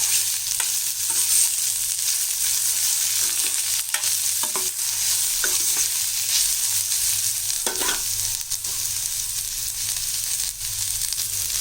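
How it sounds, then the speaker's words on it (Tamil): Two green chilies and curry leaves sizzle steadily in hot oil, a loud continuous fry broken by occasional stirring scrapes and clinks of a spoon against the pan, with no voices. "இதிலே நம்ம கட் பண்ணி வச்ச 2 பச்சை மிளகாய் போட்டுக்கலாம். கறிவேப்பிலை, இதையும் நல்லா சேர்த்து வதக்கிடலாம்."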